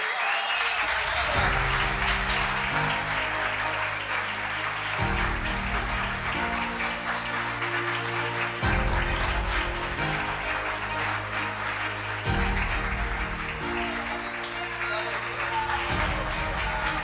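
Audience applause at the SFM Magazines Awards 2023 ceremony, a steady, full burst of clapping from a large crowd that carries on without a break, with occasional faint voices underneath.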